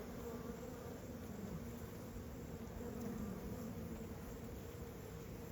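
Honey bees hum and buzz around an open hive frame holding brood and eggs during an Australian beekeeping inspection, a steady close droning swarm that holds level throughout with no talk over it.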